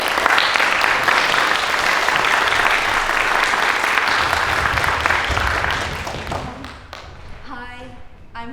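Warm applause from a school audience at a middle school drama festival welcomes a director, steady and full before fading out, with a voice beginning to speak as it dies down.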